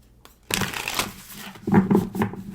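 Alice and Luna's tarot cards are shuffled up close, giving bursts of papery riffling and shuffling that start after a quiet moment and carry on for a few seconds, with no voices.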